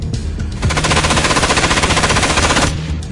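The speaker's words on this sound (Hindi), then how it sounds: "नेगेव लाइट मशीन गन, ये वो भरोसेमंद लाइट मशीन गन है जिस पर मुश्किल हालात में पूरा भरोसा किया जा सकता है।" A Negev light machine gun fires one sustained burst, a loud rapid rattle of evenly spaced shots lasting about two seconds before it cuts off.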